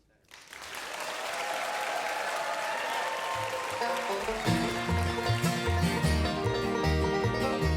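A live concert audience claps and cheers in a loud, sustained burst of applause, and acoustic band instruments begin playing underneath partway through.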